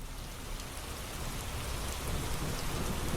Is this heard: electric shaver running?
no